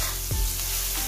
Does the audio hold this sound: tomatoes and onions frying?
yes